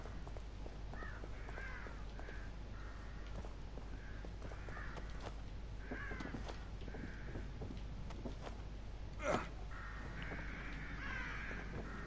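Crows caw repeatedly in The Evil Within, with faint, scattered calls in loose groups over a quiet background, and a single sharp knock partway through.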